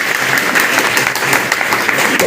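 A crowd at a village meeting in Basti breaks into brief, loud, close applause, with rapid, even clapping throughout.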